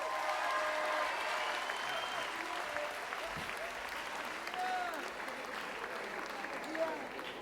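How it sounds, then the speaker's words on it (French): An audience at a reading applauds author Hadrien Bels with steady, sustained clapping throughout, a full room of hands heard at moderate distance. "Merci d'applaudir comme il se doit, monsieur Adrien Bels"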